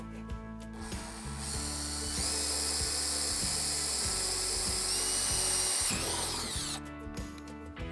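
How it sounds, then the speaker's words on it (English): A cordless drill set to a soft clutch drives a fastener tight while installing an anchor trolley kit on a Hobie Compass pedal kayak: a close, whining motor run for several seconds, ending in a rapid ratcheting clutch chatter as it seats. "Setting my drill to a soft clutch, and give this a nice firm push, and it's going to take about 25 turns to come tight."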